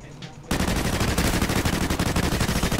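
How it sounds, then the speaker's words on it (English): Sustained automatic gunfire in Call of Duty Ghosts online multiplayer, bursting in loud after a quiet half second and rattling on continuously as a dense spray of rapid shots. "I sprayed about 10 bullets into you"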